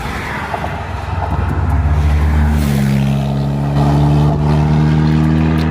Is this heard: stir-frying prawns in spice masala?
no